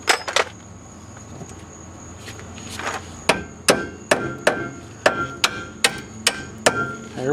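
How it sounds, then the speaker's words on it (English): Hammer driving a rear brake rotor bolt into place on a Hyundai, a couple of early blows, a pause, then a steady series of about a dozen sharp metallic strikes, close and loud. "I should be able to hammer it the rest of the way"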